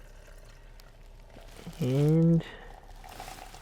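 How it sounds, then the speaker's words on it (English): Water pours from a half-gallon jug into a bottle in one short, close stream lasting under a second, its gurgling tone rising as the bottle fills against a quiet room. "I have my water in my half gallon here that I'm just gonna fill up my"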